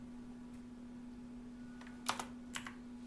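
A few distinct key presses on a computer keyboard, ending a formula entry in Microsoft Excel; two short clusters of crisp clicks sound close over a steady low electrical hum, with no speech.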